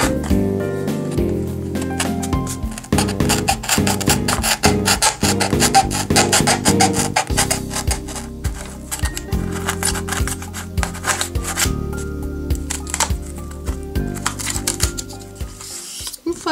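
Cardboard is cut with scissors to free a circle inside a Christmas tree shape, giving a close sequence of crunchy snips, rasps and rubbing scrapes without talk.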